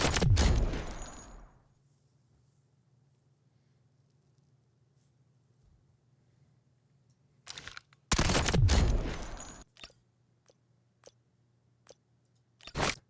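Bursts of rapid automatic gunfire in the Delta Force shooter firing blue-tier ammo, two loud volleys separated by a long near-silent gap with a faint steady hum, followed by a few scattered shots.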